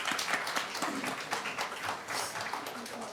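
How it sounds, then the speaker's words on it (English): A Santa Clarita city council meeting audience applauds, scattered individual claps building into a modest round that sounds fairly distant and quiet in the chamber, with some voices mixed in. "Now you can applaud"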